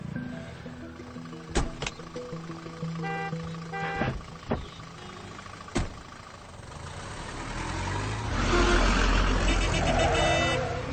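A bus drives past on a road, its engine droning steadily with a few sharp clatters before the rumble swells louder and closer toward the end.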